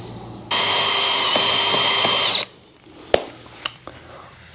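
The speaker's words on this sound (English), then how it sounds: "We're gonna pre-drill this and then get this all hooked up here." A power drill pre-drills a hole in wood while an Adirondack chair is being built, running in one steady loud whine for about two seconds, then stopping, followed by a few sharp clicks and knocks.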